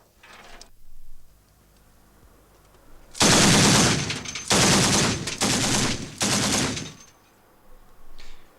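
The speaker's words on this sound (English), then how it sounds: "They're learning how to fire the larger machine guns once used exclusively by the Portuguese." Large machine guns fire in four sustained, loud bursts, each lasting about a second, with short gaps between them. Fainter bursts come before and after. The weapons are the kind once used by Portuguese forces, fired during the opening of the 1975 Angolan Civil War.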